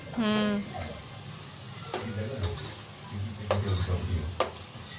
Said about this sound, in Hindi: सब भिंडी को पहले तलती हूँ